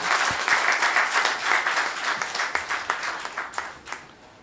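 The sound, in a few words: audience applause at a conference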